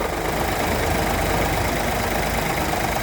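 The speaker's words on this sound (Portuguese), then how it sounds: "Percebi que isso aqui tá fazendo um barulhinho. Ah, o motor é 3 cilindros, ele chacoalha, beleza." A Ford Ka with a 3-cylinder engine idles with an intermittent fault, a steady close-up rumble with a shaky, uneven rattle over it and no voices.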